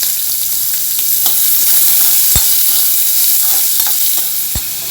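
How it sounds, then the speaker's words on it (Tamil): Onions sizzle loudly in hot oil in a pan with cinnamon and chilies for curry leaves rice, a steady close frying hiss broken by a couple of sharp stirring knocks. "வெங்காயம் போட்டு வதக்கிடணும்."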